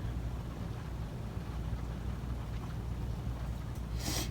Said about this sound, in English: I'm sorry if you can hear the rain outside.